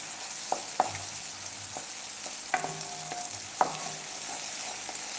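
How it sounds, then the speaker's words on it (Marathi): Tomato stir-fried in oil hisses softly and steadily while a utensil knocks and scrapes against the pan now and then, with no talking. "टोमॅटो जोर सॉफ्ट होत नाही तोवर आपल्याला परतवायचा आहे तेलामध्ये"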